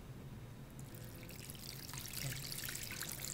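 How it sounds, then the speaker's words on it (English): Sugar-and-salt brine poured from a container into a dish with meat, a soft close trickle that grows slightly louder and splashier toward the end. "and just pour it into the dish"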